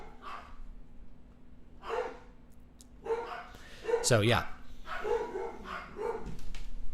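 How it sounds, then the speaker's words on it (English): Dogs bark in a short burst of loud, yelping barks close by, with a person talking before and after the barking. "I'm sorry for my dogs."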